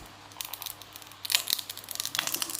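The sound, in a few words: phone battery adhesive being pulled off, crispy tearing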